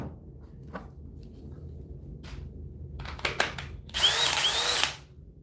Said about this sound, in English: Let's try the Dewalt